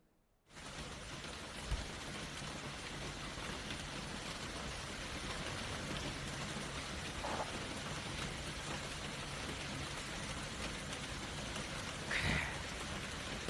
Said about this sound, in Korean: 그 빗물이 떨어지는 나뭇잎을 바라보는 그 빗소리 영상 한 10초 한번 보실까요